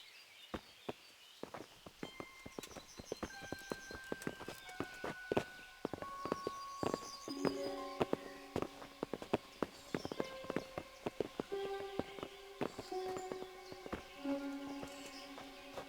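Rhythmic clip-clop of horse hooves on a hard surface in the video game Kingdom Come: Deliverance, steady and fairly close, with soft musical tones in the background.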